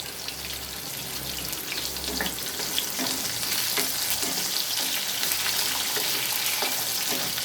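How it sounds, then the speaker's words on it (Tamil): Shallots, garlic cloves and curry leaves sauté in a hot pan for curry leaf kuzhambu, giving a loud, steady, close sizzle that runs without a break and with no voices. "இந்த வெங்காயமும் பூண்டும் நல்லா வதங்கிடுச்சு"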